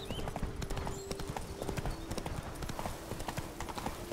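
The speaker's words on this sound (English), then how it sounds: "Okay, Roach. Come on, Roach. Let's go" A horse's hooves clip-clop steadily at a trot in the video game The Witcher 3: Blood and Wine. The hoofbeats are close and continuous over faint in-game ambience.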